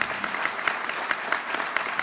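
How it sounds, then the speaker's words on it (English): An audience at a college building groundbreaking ceremony applauds, a steady dense round of clapping at moderate volume with no talk over it. "Give them a round of applause, please."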